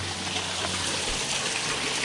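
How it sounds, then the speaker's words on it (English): A small waterfall in Patapsco State Park, Maryland, rushes and splashes steadily close by, a dense unbroken wash of flowing water with no voices. "Little mini waterfall."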